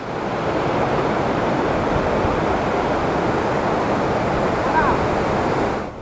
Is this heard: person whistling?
no